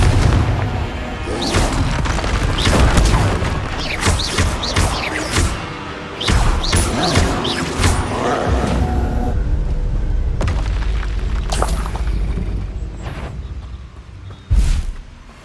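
Repeated heavy booms and thumping blasts from spell combat in the Hogwarts Legacy video game, including the Confringo fire-blast spell, dense and loud with short gaps and a sharp burst near the end.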